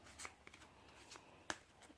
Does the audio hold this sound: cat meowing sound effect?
no